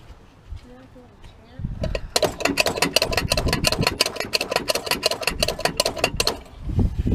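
An old truck engine cranks over on a tired starter, a loud fast rhythmic chugging that runs for about four seconds and then stops, with a voice talking briefly before and after.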